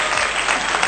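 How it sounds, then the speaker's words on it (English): Audrey claps along with a round of applause, a dense, steady patter of hands that fills the whole moment at close range with no talk over it. "Audrey is clapping."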